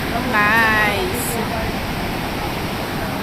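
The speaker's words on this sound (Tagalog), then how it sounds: "Ang lalakas ng alon, eh" Strong surf at Baler, Aurora produces a steady, broad roar of breaking waves that fills the whole stretch, with a brief voiced exclamation rising over it near the start.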